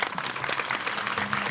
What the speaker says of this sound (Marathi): स्तुती केल्यामुळे टाळ्या वाजवल्या